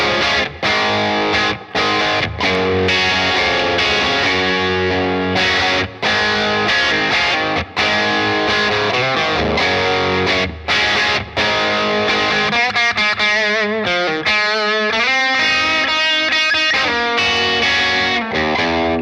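Electric guitar played through a Bad Cat Black Cat combo amplifier with reverb up, open chords ringing with a driven, effects-laden tone, loud and continuous with no talking.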